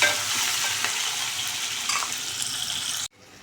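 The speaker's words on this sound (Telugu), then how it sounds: "ఉల్లిగడ్డ, పచ్చిమిర్చి, ఇది కొద్దిగా ఫ్రై చేసుకొని" Onion and green chili fry in oil, a dense close sizzle with light stirring scrapes that runs steadily for about three seconds, then cuts off to near quiet.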